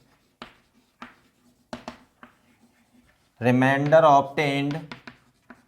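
Marker strokes on a board during a maths lecture on the binomial theorem, a few short scratchy taps spaced apart, then someone speaks briefly.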